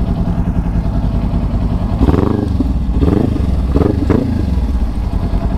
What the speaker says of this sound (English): 2023 Kawasaki Ninja POV ride